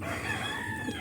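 A rooster crows at a home where a flock of chickens is kept, one steady sustained call that runs through the whole moment at moderate volume, with no talking.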